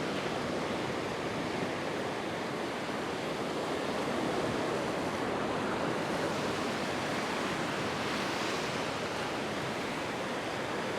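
Ocean waves wash onto a shore during fishing, heard as a continuous loud broadband roar of surf with wind, swelling slightly in places, with no voices.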